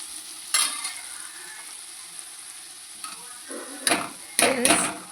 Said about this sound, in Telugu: ఇప్పుడైతే కట్ చేసి పెట్టిన దొండకాయలు అయితే ఫ్రైలో వేసుకోవాలి.